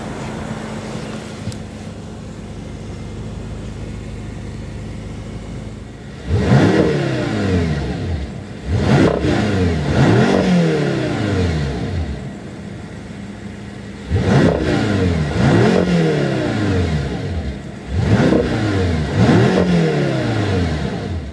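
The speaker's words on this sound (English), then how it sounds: "The engine feels very light, nice and free revving, and gives a very unique exhaust note" A 2014 BMW M6 Gran Coupe engine revs hard in repeated bursts, the exhaust note rising and falling with a pop each time, idling quietly between revs.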